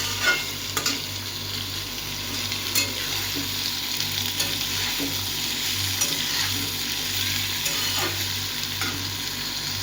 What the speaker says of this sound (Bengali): এর মধ্যে হালকা করে নুন দিয়ে একটু ভাজবো